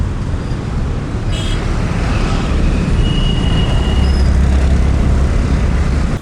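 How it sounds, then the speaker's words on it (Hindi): Busy main road traffic roars as a continuous, loud wash of engine and tire rumble, with passing vehicles and a brief high squeal or horn-like tone cutting through, no talking. "एकदम बिजी मेन रोड में हूँ जहाँ काफ़ी ट्रैफिक है"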